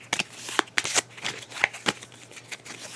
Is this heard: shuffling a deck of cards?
yes